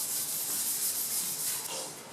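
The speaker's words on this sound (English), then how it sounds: "Scuff them enough to get the shine off." Truck parts from a 1973 GMC K5 Jimmy being scuffed by hand before a bedliner coating: a steady, close abrasive rubbing hiss that runs without a break for about two seconds.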